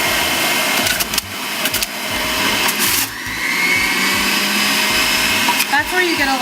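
A juicer grinds whole Pink Lady apples with a loud, steady motor whine and crunching that surges as each fruit feeds in, close up and continuous throughout.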